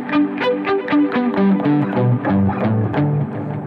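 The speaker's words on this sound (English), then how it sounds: "I'm using palm muting, lightly resting my palm" A distorted electric guitar plays a palm-muted, chugging riff of short clipped notes in a quick steady rhythm, loud and close, no voices.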